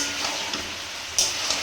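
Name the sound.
curry frying in a pan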